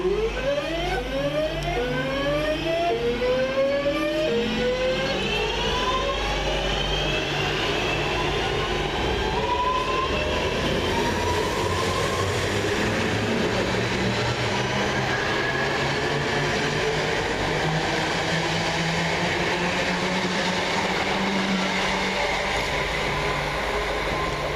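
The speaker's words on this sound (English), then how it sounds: "we see 323-205 and 328-218 depart, with the 1354 West Midlands Railway service from Bromsgrove to Lichfield Trent Valley" West Midlands Railway class 323 electric multiple units departing Barnt Green station, with a rising motor whine sweeping upward in pitch over steady rumbling wheel noise, close and loud throughout.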